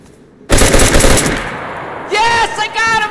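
Automatic gunfire from the video game DayZ, a loud close burst of rapid shots lasting about a second and a half, followed by more firing mixed with a shouting voice.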